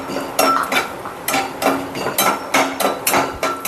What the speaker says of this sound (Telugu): నెయ్యి వేసి వేడి చేసాను. ఇప్పుడు జీడిపప్పు వేగించుకుందాం.